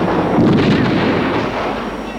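Musket and cannon fire in a battle from an animated film: a loud, dense roar of overlapping booms and crackling shots, with no gap, that fades slightly toward the end.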